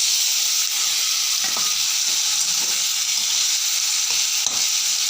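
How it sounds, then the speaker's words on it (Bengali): A fish head hits a pan of already-fried onions, raising a dense, even, high sizzle that carries on close and loud, with a few faint clinks and no talking. "এবারে মাছের মাথাটা দিয়ে দেব।"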